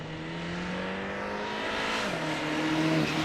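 An old Mini with a Honda engine drones steadily and rises in revs, a continuous mechanical growl that climbs in pitch, heard from a moderate distance.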